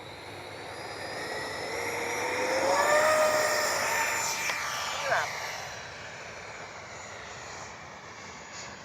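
Freewing F/A-18C 90mm electric ducted-fan RC jet takes off on an evening flight, its high whining roar swelling as it passes near and then fading into the distance, with a steady broadband rush throughout.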